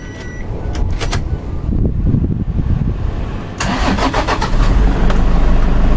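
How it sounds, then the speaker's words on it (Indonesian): A 2018 Toyota Hiace diesel van cranks and starts with a loud rough churn, then settles into a steady clattering diesel idle, heard close up with no talking. "teman-teman sudah dengar suara mesinnya yaitu diesel"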